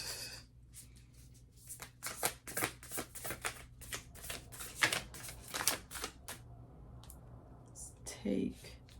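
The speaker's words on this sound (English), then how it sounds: "Shuffling the cards" Tarot cards being shuffled by hand in bursts of crisp riffling and slapping, close and quiet, with pauses between shuffles and a brief soft voice near the end.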